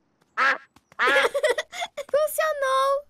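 A person's voice imitates a duck with a short quack, then a pause and a run of nasal, drawn-out quacks, close and clear.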